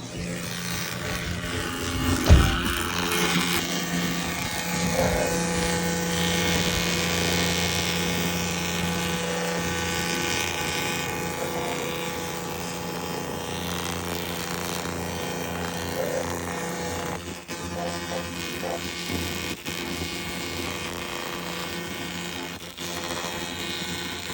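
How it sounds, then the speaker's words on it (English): A tattoo removal machine running as a steady, loud mechanical buzz and whine, close by and continuous, with a brief thump early on. "Tattoo removal machine."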